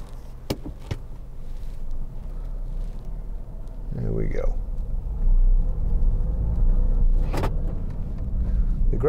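A 2009 MINI Clubman Cooper 1.6 five-door setting off on the road, heard from inside the cabin as a low engine rumble that swells partway through. There are a few sharp clicks and a brief mid-range whine over it, and a voice speaks at times.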